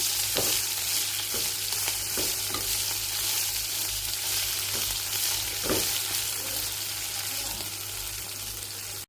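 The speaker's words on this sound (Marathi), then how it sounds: "आता व्यवस्थित परतून घेऊया." Green chillies with salt fry in a pan, a loud steady sizzle throughout, broken by occasional scraping stirs from a spatula, with no voices.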